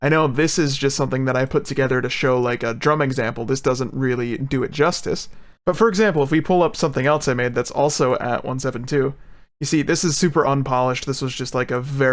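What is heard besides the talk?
None of the usual background noises is heard.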